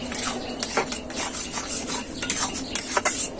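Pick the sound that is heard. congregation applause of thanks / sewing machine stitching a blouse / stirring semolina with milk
stirring semolina with milk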